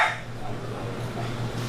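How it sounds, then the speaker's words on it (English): A shop dog at a high-performance automotive shop barks and yips repeatedly at close range, with a voice talking alongside through the short burst. "she decided that she was just gonna bark the whole time that I'm filming"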